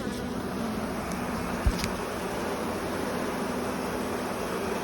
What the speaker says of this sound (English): You can hear them roaring.